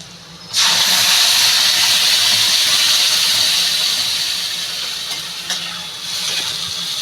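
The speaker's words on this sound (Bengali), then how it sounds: "কচুর পাতাটা যে পিছিয়ে রেখেছি এটা ঢেলে দেবো" Taro leaves tipped into hot oil with browned garlic burst into a loud, steady sizzle that starts abruptly and keeps hissing evenly, easing slightly over several seconds.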